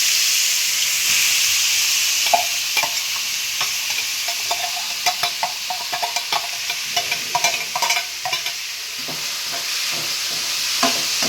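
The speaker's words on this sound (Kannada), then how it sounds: "3 ಸ್ಪೂನು ಆಯಿಲ್ ಹಾಕಿದ್ದೀನಿ. ಅದು ಸ್ವಲ್ಪ ಕಾಯಿಲಿ. ಈಗ ಈರುಳ್ಳಿ, ಮೆಣಸಿನ್ಕಾಯಿ, ಕರ್ಬೇವಿನ ಸೊಪ್ಪು ಹಾಕೋತಾ ಇದ್ದೀನಿ." Onions, green chilies and curry leaves frying in hot oil for an egg stir-fry, a loud steady sizzle and hiss broken by repeated scraping stirs, close by with no voices.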